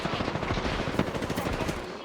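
Rapid automatic gunfire rattles continuously in the Apex Legends shooter, a dense, close burst of shots lasting about two seconds at a steady loud level.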